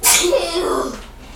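A single loud, close sneeze bursts out and trails off quickly.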